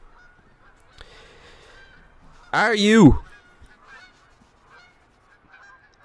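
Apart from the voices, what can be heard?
gold snow goose honking, from video game theHunter Call of the Wild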